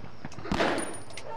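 Gunfire from the World War II shooter game Medal of Honor Underground crackles in a few sharp, rapid shots that peak midway over a steady background of game noise.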